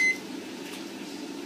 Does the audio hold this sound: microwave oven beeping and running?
yes